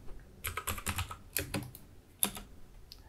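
Computer keyboard typed on in short bursts of quick keystrokes, close and crisp, with a few brief pauses and a single sharp key press near the end, with nobody speaking.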